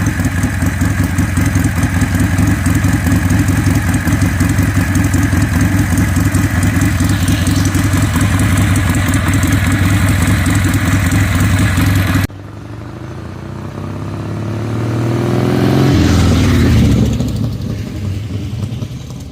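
A motorcycle engine rumbles loud and steady up close, then the tone shifts as the bike revs up and pulls away into a riding drone.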